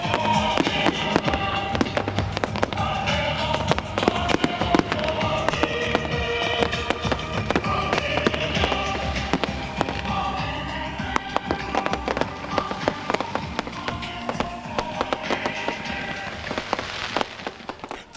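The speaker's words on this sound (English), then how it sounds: "The grand finale to the evening is a firework display" Fireworks crackle and pop in rapid, dense bursts, loud and continuous, with booming thuds scattered through the display.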